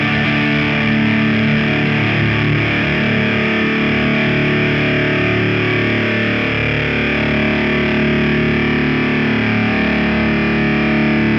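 Heavily distorted electric guitar through the Vital distortion effect rings out loud and sustained, a thick, saturated tone droning steadily with no pauses.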